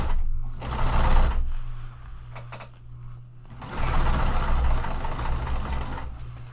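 A sewing machine runs steadily while stitching the bottom seam of a tote bag at a regular stitch length, with a loud motor hum and needle chatter in two long bursts around a short pause.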